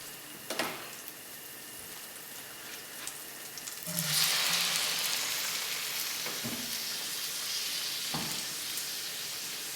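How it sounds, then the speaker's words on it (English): Tomatoes drop into a hot stainless steel pan and burst into a loud, steady sizzle that carries on alone, with a few light knocks and clicks before and after. "On our stainless steel, we'll go ahead and add our tomatoes."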